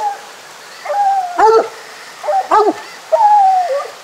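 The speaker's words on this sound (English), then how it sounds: "There's the little Jip here opening up" A coonhound trails a raccoon through pine woods at night, giving several drawn-out, howling bay notes in a loud, close, bawling rhythm with pauses between calls.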